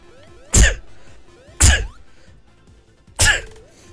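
Three loud, abrupt sneezes spaced roughly a second apart, each a sharp burst standing alone against a quiet background during a Sonic Mania game session.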